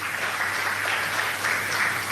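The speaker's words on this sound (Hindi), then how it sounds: "VK वर्मा जी और उनकी टीम वो किचन में जो थी उनके लिए फिर से और जोरदार तालियां प्लीज" Applause rises for the kitchen volunteers who cooked the prasad at a gathering, a steady, dense patter of many hands at moderate volume with no talking over it.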